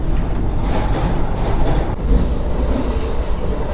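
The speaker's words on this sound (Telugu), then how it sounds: "సో ఇది వచ్చేసి మన India's longest train Vivek express train" The Vivek Express, a very long passenger train, rolls past on the rails near the Krishna River crossing, a loud, steady roar of wheels and carriages with no talk.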